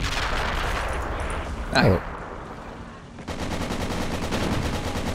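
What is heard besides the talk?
turret gunfire in video game Men of War: Assault Squad 2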